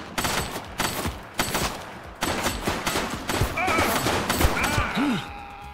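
Rapid bursts of gunfire crack through a firefight in The Precinct, a police video game: loud repeated volleys and automatic fire in clusters, with game voices faintly mixed underneath and a siren-like whoop near the end.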